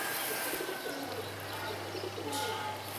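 Pigeons coo softly in a Pakistani pigeon-keeping setting, low murmuring calls repeating over a steady background hum, close by, with a brief brighter chirp, no talking.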